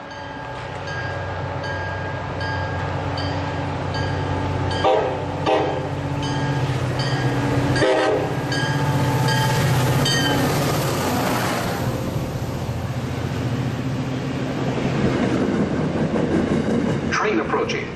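A commuter train pulls into a station on Route 128 at rush hour, its horn sounding in short blasts over a rumbling, squealing approach that swells and stays close.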